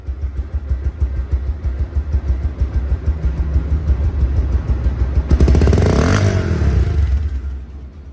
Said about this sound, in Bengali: দেখেন সাউন্ডটা দেখেন রানিং অবস্থা আছে সাউন্ড